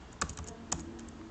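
Keys clack on a computer keyboard as Java code is typed: a brief run of light, close taps with three sharper keystrokes standing out, all quiet.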